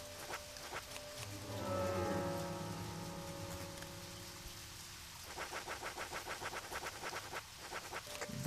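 Steady rainfall in the video game Deadly Premonition, a soft hiss that swells over the first few seconds and then fades, followed by a faint rhythmic pattering of footsteps.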